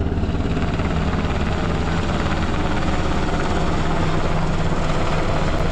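A helicopter carrying water from the sea to drop on a fire gives a steady, loud rotor and engine drone that holds without a break for several seconds, with no talking.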